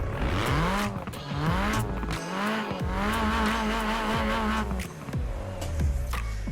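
A Vauxhall Corsa VXR with a 1.6-litre turbocharged engine in Forza Horizon 4, its engine loud and close as it revs up and drops through repeated gear changes, with tire squeal and skidding mixed in.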